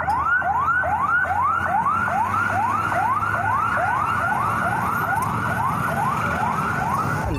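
A toy fire truck siren wails continuously in rapid repeating rising sweeps, loud and close, with no talking.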